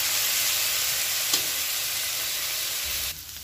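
Ground pork sizzles and fries in a hot pan while it is stirred, a steady loud hiss with a faint scrape and a drop in intensity near the end.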